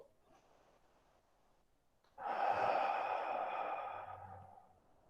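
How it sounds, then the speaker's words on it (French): A single long, audible exhale follows a quiet stretch during a qi gong kidney self-massage exercise, a close, breathy rush of air that fades out gradually. "Écoutez votre respiration 3 fois."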